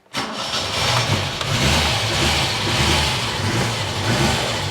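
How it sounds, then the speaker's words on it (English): An old barn-find car engine cold-starts without choke after a couple of pedal pumps; it cranks and catches, then runs roughly with a lumpy, uneven idle, loud and close throughout. "Okay, so let's get this cold started."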